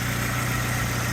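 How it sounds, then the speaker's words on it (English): A remapped 2001 Saab 9-3 Turbo convertible with a Hirsch tune idles close by, a steady low rumble with an even throb and no talk over it. "That's the engine."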